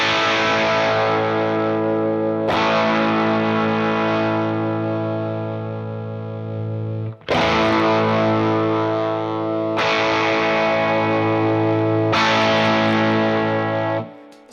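An electric guitar plays sustained distorted chords through an effects pedal as its treble and then bass controls are swept, the tone shifting gradually across several long, loud strummed chords with brief breaks between them and no speech.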